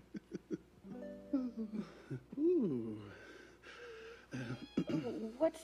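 Kitten meows in a cartoon party scene, several short rising and falling cries scattered among nearby character voices, with people talking throughout.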